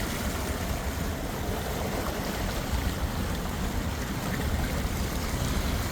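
Water rushes and churns continuously over a lake spillway, a loud broadband roar like surf, steady throughout with no voices.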